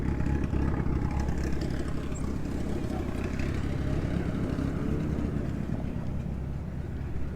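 A car engine idles at a Cars and Coffee meet, giving a continuous rough, low-pitched rumble with a gritty texture that stays fairly even and close throughout.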